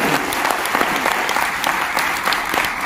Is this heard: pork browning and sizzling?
no